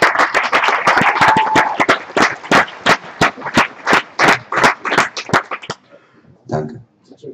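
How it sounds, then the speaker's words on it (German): A crowd applauds with a steady stream of claps that then thins out into a few scattered claps before fading. "Nochmal einen großartigen Applaus bitte für die beiden."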